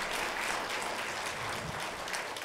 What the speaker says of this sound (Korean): 박수 치겠습니다.